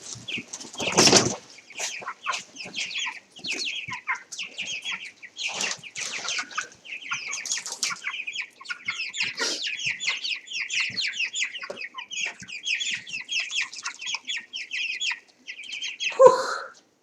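Chickens in a chicken pen, a busy mix of clucks, chirps and squawks from several birds, with a burst of wing flapping at the start and another near the end.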